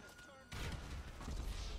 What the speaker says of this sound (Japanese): 爆弾使いましょうかね。